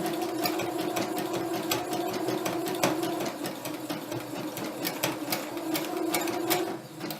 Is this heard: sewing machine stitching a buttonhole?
yes